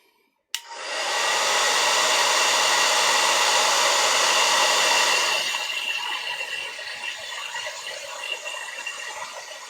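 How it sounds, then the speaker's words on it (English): A hair dryer switches on abruptly and blows with a loud, steady whoosh, then its roar drops to a lower setting and keeps running alone. "use the old little hairdryer there to dry it off quickly"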